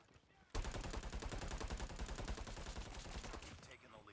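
Rapid automatic gunfire in the mobile shooter Call of Duty Mobile during a deathmatch, bursting in loud and close after a quiet half second and rattling continuously in a fast, even rhythm until near the end.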